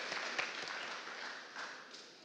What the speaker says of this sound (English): give your budget chairman a round of applause